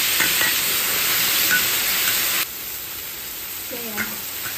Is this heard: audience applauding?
no